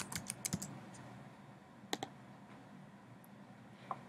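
A password is typed on a computer keyboard in short clusters of light, quiet key clicks with pauses between, faint and close, with no talking.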